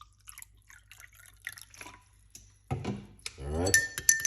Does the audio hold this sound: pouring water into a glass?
yes